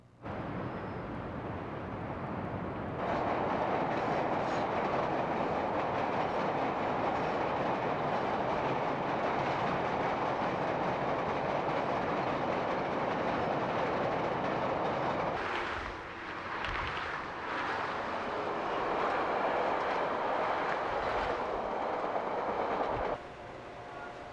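A 1994 CTA Chicago elevated rapid transit train runs past in a loud, sustained roar of wheels on rails, with a brief dip and some clatter midway before the noise continues and then drops off near the end.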